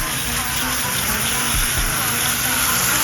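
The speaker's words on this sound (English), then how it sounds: "the next step is just to rinse off the bike" Water sprays steadily over a Tuttio Soleil e-bike during a rinse, a continuous hissing gush that stays loud and close throughout.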